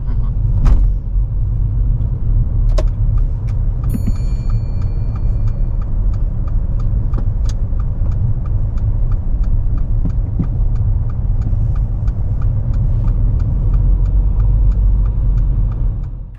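A car drives along a one-way road during a beginner's driving lesson. A loud, steady cabin rumble fills the whole stretch, with a faint, regular ticking on top.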